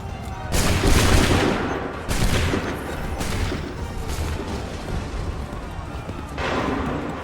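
Several booming musket volleys crash out in Assassin's Creed III, each a loud broadband blast with a rolling tail, spaced a second or two apart, with battlefield shouting under the shots.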